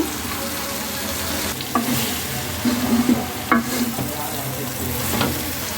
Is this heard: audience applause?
no